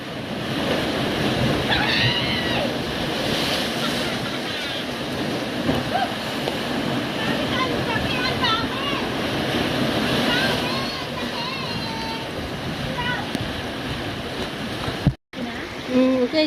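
Strong sea waves roll in with a constant heavy wash and wind rumble, people talking intermittently over the surf, and a brief bump of handling noise near the end.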